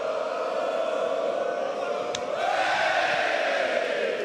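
A large London concert crowd roars loudly on request, a dense, continuous wall of cheering voices that swells a little louder partway through.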